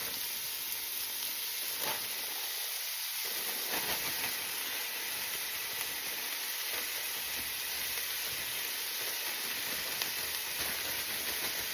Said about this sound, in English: I'm going to saute this for about 5 to 6 minutes until my vegetables start getting tender